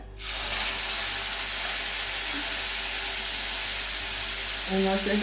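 Spices and turmeric hit hot oil for Bengali masala pabda fish, setting off a loud, steady sizzle and hiss that holds throughout, with a brief clink near the end.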